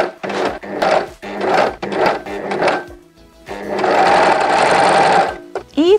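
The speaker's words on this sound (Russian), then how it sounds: "Начинаем шить." An overlock sewing machine stitches fabric for men's boxer shorts, running in several short bursts and then one longer steady whirring run, close and loud, with brief handling noises in the gaps.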